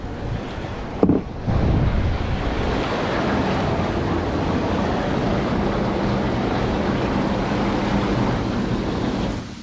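Water churns steadily in a garden jacuzzi spa tub, a constant bubbling roar close to the microphone after a brief knock at the start.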